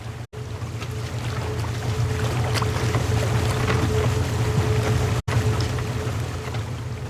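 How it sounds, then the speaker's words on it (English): A boat engine in a video game runs at high revs, a steady loud low drone with a constant pitched hum that holds throughout, broken only by two very short dropouts. "Put the engine into overdrive"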